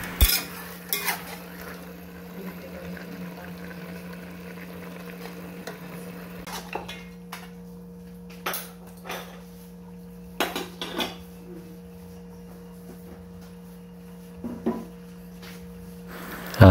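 Metal utensils clank and scrape intermittently against a pot of kare-kare oxtail being stirred, with sharp clinks standing out over a steady low kitchen hum; no one speaks.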